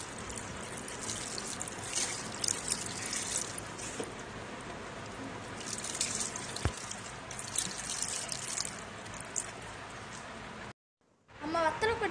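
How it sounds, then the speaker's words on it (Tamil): Water is poured from a bowl onto a betel vine plant grown from cuttings, a continuous trickling and splashing pour that stops briefly, then resumes, with talk in the background. "தண்ணி ஊத்திக்கலாம்"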